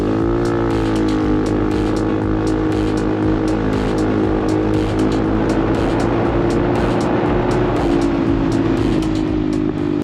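A Honda Navi motorcycle with an upgraded carburettor pulls away in a 0 to 30 mph run, its small engine droning steadily and close by, the pitch climbing gradually as it gains speed.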